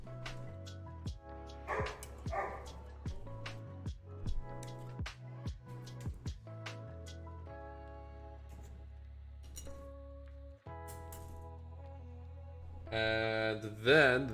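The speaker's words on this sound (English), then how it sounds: "My dog's woofing. My guy, he's been barking." A pet dog barking several times in short sassy bursts amid quiet indoor sounds, near and moderately loud, with soft whimpers between.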